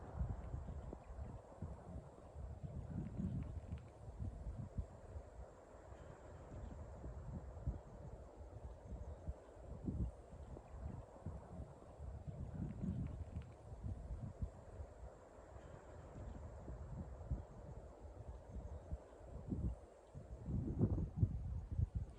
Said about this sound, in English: Hear the wind in the desert oak here